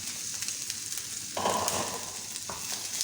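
Green peas hitting hot cooking oil with garlic in a pan, a steady soft sizzle that swells louder partway through as the peas go in, continuing as a close frying crackle with no talking.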